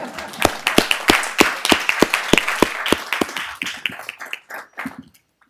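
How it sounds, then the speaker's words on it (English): Meeting audience clapping at a county education board session, a brisk burst of sharp hand claps that thins out toward the end. "you can clap for that video."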